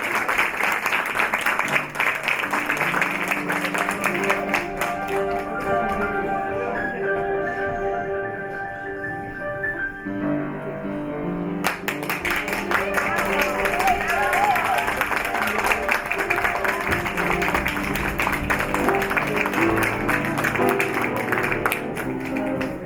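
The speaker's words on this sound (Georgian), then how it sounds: "უხარი აპლოდისმენტები." An audience at a children's winter celebration claps for a long stretch, a dense wash of applause that thins briefly near the middle before swelling back, with music playing underneath.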